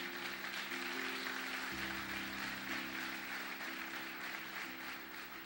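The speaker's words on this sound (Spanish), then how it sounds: "Alaben a Dios con palmas." A church congregation in Guatemala clapping in praise, a continuous, even patter of hands under sustained organ-like music.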